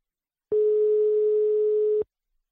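A single steady telephone tone sounds for about one and a half seconds on a phone line while placing a prank call, a clean loud hum that starts and stops abruptly in silence.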